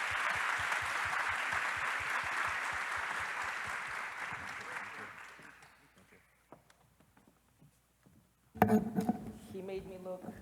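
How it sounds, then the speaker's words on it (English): Audience applause welcoming someone onto the stage at the opening plenary of a global forum in Rio de Janeiro, steady dense clapping that fades out over several seconds, followed by brief silence and then a voice speaking. "ask a big round of applause to her"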